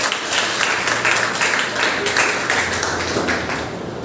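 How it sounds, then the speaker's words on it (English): Students in a middle-school classroom clap for the winning team of a one-word substitution quiz, a steady, dense wash of hand claps lasting throughout, with some voices mixed in. "50 clap for the team members."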